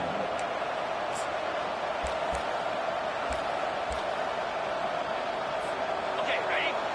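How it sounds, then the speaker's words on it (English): Large football stadium crowd roaring steadily to fire up the defense near the goal line on second and goal, a dense wash of cheering with a few brief thuds and ticks over it. "this big crowd doing everything possible to inspire this defense down here near the goal line"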